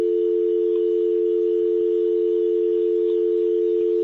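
A continuous, loud, steady dial tone comes from a VoIP desk phone with its handset lifted off the hook, unbroken and alone for the whole stretch.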